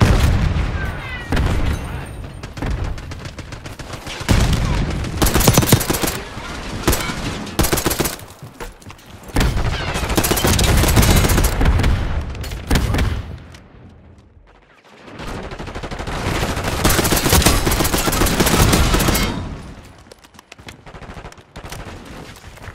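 Rapid gunfire from submachine guns in Call of Duty Black Ops 6 multiplayer, with loud dense bursts, overlapping volleys and booms, broken by short lulls.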